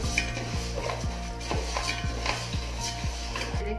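Rice fries in ghee in a pot while being made into rice kheer, with a soft sizzle under a steady rhythm of roughly twice-per-second spoon scrapes and stirs against the pot, close and fairly quiet.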